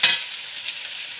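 Potatoes fry lightly in a pan for a moment with a soft, steady sizzle. There is a brief stirring scrape at the start, then an even hiss with no voices.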